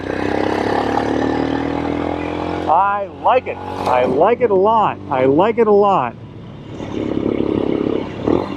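A Royal Enfield Scram 411 single-cylinder engine fitted with an AEW Thunder exhaust pipe rumbles steadily nearby at the start and end, while someone talks over the middle stretch.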